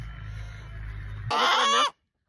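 A steady low hum gives way to a short, loud burst of harsh rooster squawking up close, then it falls silent.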